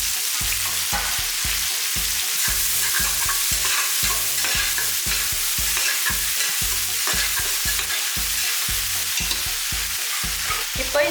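Small onions (shallots) are frying in hot oil with spices and curry leaves for a mutton curry. The oil gives a steady loud sizzle, and a spoon stirs in a fast, regular scraping rhythm throughout.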